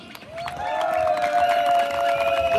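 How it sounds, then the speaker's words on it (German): A demonstration crowd in Rochlitz, gathered at a protest over a refugee home, applauds and cheers a speaker, a steady wash of clapping and voices that swells after a quiet start, with whistle-like tones running over it. "Applaus für Martin Kollmann!"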